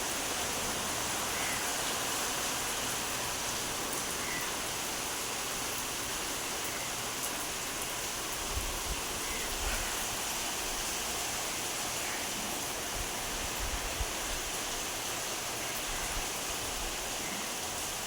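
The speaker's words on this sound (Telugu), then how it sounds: "వాన పడుతుంది" Steady rain falls over a village under dark clouds, a continuous broadband hiss with a few low thumps, heard at close range with no voices.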